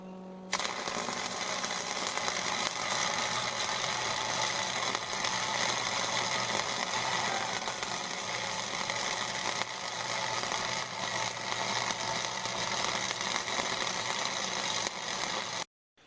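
Stick welding with a 1/8 inch 6011 AC rod at 90 amps: a continuous loud crackling, sizzling arc that holds steady for about fifteen seconds, then cuts off abruptly.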